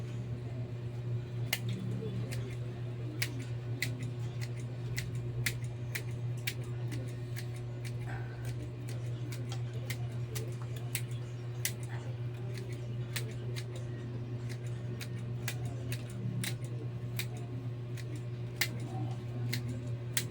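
Scissors trim a bonsai tree with a long run of crisp, close snips at an irregular but frequent pace, over a constant low background hum.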